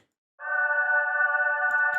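A sustained, sharp ringing resonance around 1400 hertz with harmonics starts abruptly after a brief silence and holds steady, with faint clicks near the end.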